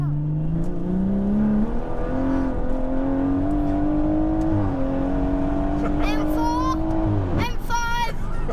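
A tuned BMW M140i (Stage 2+) accelerating hard from inside the cabin, a loud rising engine drone that climbs steadily through the gears, with a sharp shift and rapid climbing tone near the end and people talking over it.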